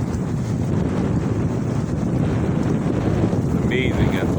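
Extreme wind roaring over choppy water of a small lake, a loud constant buffeting rush against the microphone with waves slapping beneath, and a brief faint whistle-like tone near the end.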